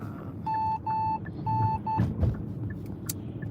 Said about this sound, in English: I think my sensors are off because it'll beep when cars aren't even there